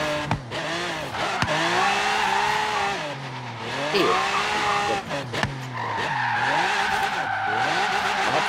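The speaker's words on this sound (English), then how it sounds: "I'm sick of my hearing my tires screeching." Tires screech loudly and continuously with wavering squeals over a steady engine drone as a car drifts through turns in the racing game Forza Horizon 3.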